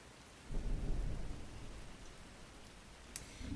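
Thunder rumbles low and broad, swelling then fading, over a steady wash of rain, with a brief sharp crackle near the end in a stormy ambience sound effect.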